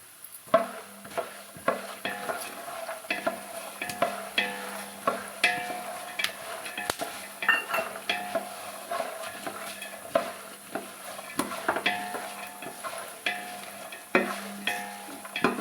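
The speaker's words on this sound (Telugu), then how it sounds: "పల్లీలు మంచిగా వేయించుకున్నాక ధనియాలు వేసుకోవాలండి." Peanuts and coriander seeds fry in a pan, giving a steady, quiet sizzle broken by repeated sharp scrapes and taps of a spoon stirring them around, close and without talk.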